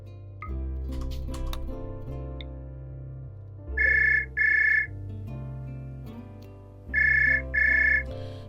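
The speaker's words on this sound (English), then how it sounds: "We're getting a phone call." A phone rings twice in two-burst electronic trills over background music from a RimWorld game session. The rings are moderately loud and spaced a few seconds apart, with no speech.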